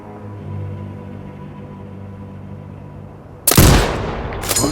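A single loud sniper rifle shot in Sniper Ghost Warrior Contracts 2, a sharp blast followed by a brief echoing tail and a second report, after a quiet stretch of low ambient hum.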